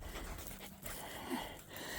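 An old dog pants softly and rhythmically, close by but faint, in a quiet room with no talking.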